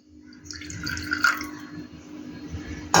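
Water trickles and splashes steadily into a container of milk, with a light dripping texture throughout and a brief louder splash near the end.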